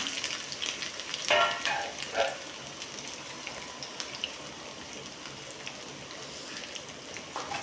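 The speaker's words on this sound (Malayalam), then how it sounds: "ചെറിയ ഉള്ളി ഒന്ന് ചെറുതായിട്ടൊന്ന് സ്ലൈസ് ചെയ്ത് കൂടി നമുക്ക് ചേർത്തൊന്ന് മൂപ്പിച്ചെടുക്കണം" Sliced shallots sizzle and crackle steadily in hot oil, with a few louder bursts of spattering early on, close and continuous.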